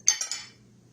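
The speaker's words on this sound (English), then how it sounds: "I always stick my fork in there to split it open" A fork clinks three times in quick succession as it is pushed into a bacon cheese biscuit to split it open, light close metallic taps that fade out over a faint low hum.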